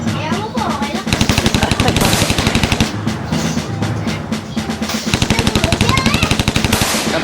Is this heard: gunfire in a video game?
yes